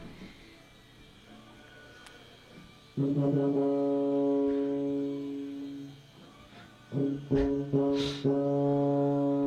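A solo trumpet plays an excerpt from Mahler's Symphony No. 5, with long sustained, close tones that pause briefly midway and then resume in shorter phrases.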